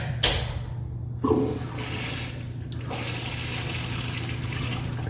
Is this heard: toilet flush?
yes